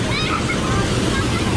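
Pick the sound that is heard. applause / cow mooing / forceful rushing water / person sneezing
forceful rushing water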